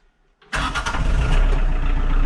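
A sawmill engine fires up after a brief silence, catching at once and settling into a loud, steady running roar close by.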